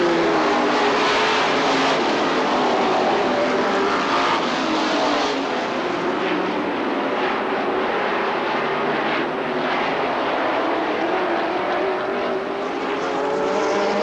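Engines of bracket racing cars roar past on a track during a 1999 feature event, a loud continuous roar that swells and fades as the cars pass, steady for the whole stretch with no talk.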